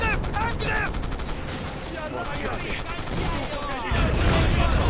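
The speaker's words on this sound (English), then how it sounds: "have the tank there fire its machine gun if anybody peeks out of the windows" Tank machine gun fire in Men of War: Assault Squad 2, a WWII battle at Balaton in 1945, as dense, rapid rattling bursts that keep going throughout over other battle noise, loud and close.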